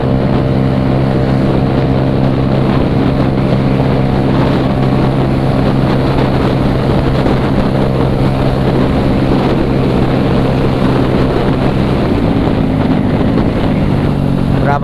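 A scooter engine with a freshly retuned CVT and new clutch springs, fitted with a Power Up part, runs under light throttle, a loud steady drone that rises slightly in pitch near the end, recorded close with some wind buffeting.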